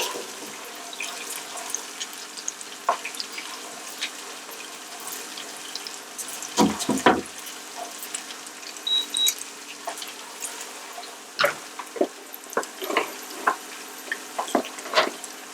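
Onions sauté over high heat for jollof rice, a faint, continuous low sizzle broken by scattered scrapes and knocks of stirring that come in irregular clusters, heard alone without speech.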